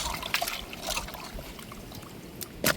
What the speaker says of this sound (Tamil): இப்போ நம்ம மீனை நல்லா அலசி எடுத்துக்கிடுவோம்